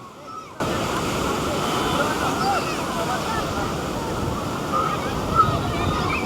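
Ocean surf at Cox's Bazar beach rolls in as a broad, steady wash of breaking waves, loud and continuous after a short quiet opening.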